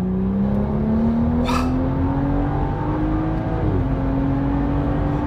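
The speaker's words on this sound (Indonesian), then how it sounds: "Sekarang coba kalau saya masukin knalpot yang berisik." A used BMW engine with a loud aftermarket exhaust revs up steadily with a rumbling, popping exhaust, pitch climbing as it is pushed harder, close and continuous.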